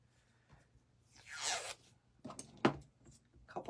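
A piece of tape is pulled off with a loud rising rip, followed by shorter tearing and crackling bursts as more tape comes free, close by and with no talk.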